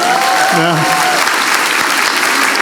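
A church congregation bursts into dense applause for a welcomed guest, the clapping steady and loud throughout, with a voice briefly audible over it early on.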